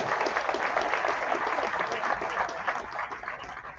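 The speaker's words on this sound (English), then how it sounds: "Give them a round of applause." A crowd at a Hall of Fame gala gives a hearty round of applause, loud and dense at first, then thinning and tapering off over nearly four seconds.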